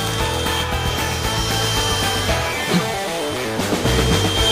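BLACK+DECKER Dustbuster AdvancedClean+ cordless handheld vacuum running loud and close, a steady droning motor whine with a faint rattle of debris and slight shifts in pitch throughout.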